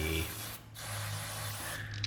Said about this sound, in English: So Brake cleaner.